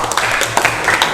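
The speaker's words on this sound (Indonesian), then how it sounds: "kita beri aplaus untuk semuanya" Audience applause in a classroom session, a short burst of steady clapping from a group at close range.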